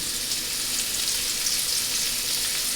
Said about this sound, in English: I will saute it in the pan where I had done the cod because it's got flavor.